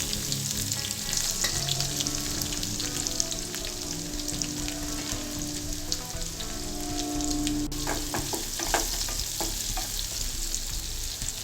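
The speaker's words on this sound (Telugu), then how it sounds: "జీలకర్ర ఆవాలు వేసిన తర్వాత ఉల్లిపాయ ముక్కలు వేసుకోవాలి." Onion pieces fry in hot oil with cumin and mustard seeds, giving a continuous close sizzle and crackle. Occasional stirring scrapes and a faint hum run underneath for the whole stretch.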